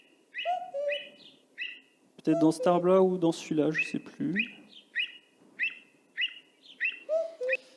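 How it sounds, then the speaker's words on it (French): Hidden bird in the indie RPG Terra Memoria gives repeated short chirping calls in clusters, clear and fairly close, with someone talking over the middle stretch. "Un petit exemple, là, on doit avoir un oiseau caché."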